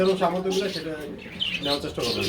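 Pigeons at a busy pigeon market make short chirps and calls, mixed in with a voice speaking close by.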